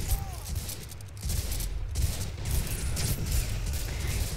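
Rifle fire from M1 Garand and Johnson rifles in the World War II strategy game Men of War: Assault Squad 2, city combat, as a dense continuous fusillade of overlapping shots with rumbling battle noise.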